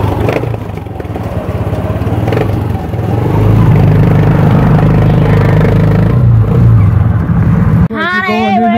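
A motorcycle engine rumbles steadily up close while riding, rising slightly in pitch, with rattling and wind noise, then a brief sliding tone at the end.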